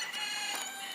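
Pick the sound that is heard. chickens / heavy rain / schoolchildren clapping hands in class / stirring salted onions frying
chickens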